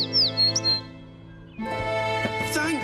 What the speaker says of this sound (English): Thank goodness, the real mother bird is here.